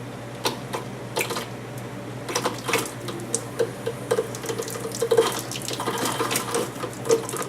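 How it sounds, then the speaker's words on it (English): Water rushing under pressure into a filter bowl as it refills, a steady hiss and splash with scattered drips and small knocks, close and continuous. "allow that bowl to fill up with water again"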